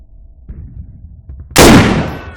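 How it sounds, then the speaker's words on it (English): A single loud, close bolt-action rifle shot in the Arma 3 IFA3WarMod game, sharp and booming with a long decaying tail, preceded by a few faint mechanical clicks and handling noises. "Now with this rifle, after every shot you have to rebolt"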